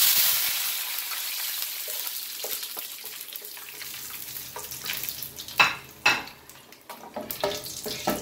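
Thyme drops into hot oil in a pot for Jamaican ackee and saltfish and sizzles steadily. A few sharp clatters of a spoon against the pot come through near the end. No one speaks.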